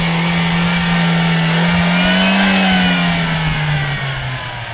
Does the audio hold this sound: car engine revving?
yes